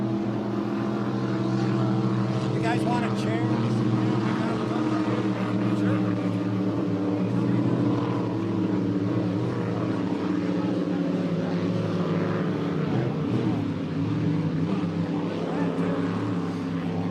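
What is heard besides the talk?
hydroplane racing boat engines roaring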